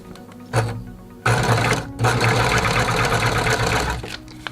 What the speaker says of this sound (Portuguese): eu vou puxando bem devagarinho a máquina. Se puxar muito rápido, vai pular ponto.